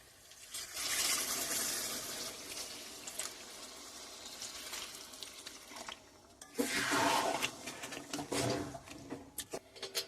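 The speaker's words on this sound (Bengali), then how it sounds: "এবারে দিয়ে দেবো মাংসরই সেই ঝোলটা" Mutton broth is poured into a pot of spice-fried mutton for a curry, a splashing, bubbling pour with sizzle that comes in two steady bursts, close by and without speech.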